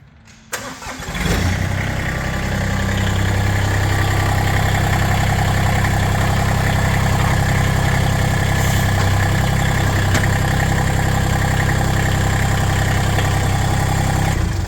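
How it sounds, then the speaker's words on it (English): A Massey Ferguson 1GC.25 compact tractor engine cranks and catches, then settles into a steady, close, low diesel idle that runs on evenly throughout. "now he'll hop in the tractor and he'll show you how that works."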